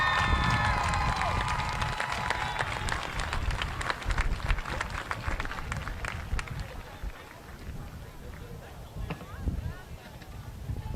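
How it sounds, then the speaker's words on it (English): Crowd clapping and cheering fill a stadium during a homecoming football halftime show after the marching band seniors are introduced, loud at first and then thinning out over several seconds, with a voice on the public address under the noise. "Let's give them all a big round of applause."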